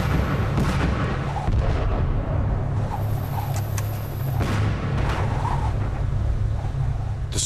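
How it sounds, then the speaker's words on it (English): A dynamite charge set off on an avalanche-prone snow slope near a glacier in Alaska gives a deep, muffled rumble with a sustained low roar and some scattered cracks. "Her team dynamite the slope to see if they can trigger anything."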